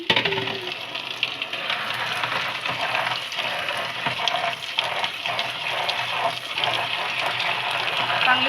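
Dried fish (sukat) being washed by hand in a vessel of water to rinse out the sand, with steady sloshing, splashing and clinking throughout, close and fairly loud.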